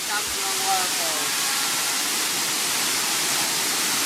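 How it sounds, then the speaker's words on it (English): Lugnason Falls, a waterfall on Siquijor island in the Philippines, pours with a steady, close broadband rush of falling water that stays even and unbroken throughout. "our first stop is Lugnason Falls."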